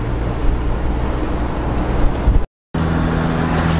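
A 50 hp vehicle engine pulling up a gentle hill in second gear, a loud, steady low drone with road noise and a brief dropout near the end, with no talk.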